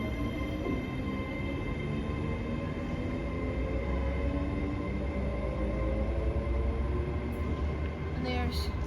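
A Class 320 electric train rolls through Motherwell station with a steady, continuous rumble and faint high whine, close and constant throughout.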